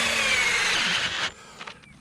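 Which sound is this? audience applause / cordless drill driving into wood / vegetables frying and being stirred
cordless drill driving into wood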